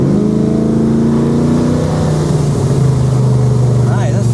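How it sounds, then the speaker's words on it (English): A Ford XW with a 351 Cleveland V8 and Holley carburettor accelerates at full throttle in second gear, its engine note a loud, rising drone heard from inside the car, with a voice briefly speaking over it. "Come from second gear, full throttle"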